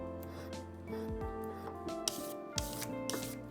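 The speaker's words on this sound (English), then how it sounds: "And then we go to the filing stage. Just very gently work it back." A file is worked gently back and forth across a gold Omega watch case after laser welding, giving a soft, steady rasping rub up close with a couple of light knocks.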